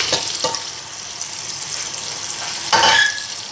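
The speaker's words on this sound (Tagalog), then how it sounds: "dito sa ating strainer, make sure na yung cold water ang nakabukas" Cold tap water streams steadily over cooked macaroni in a kitchen strainer as a continuous, fairly loud hiss and splash, with a brief surge of heavier flow near the end.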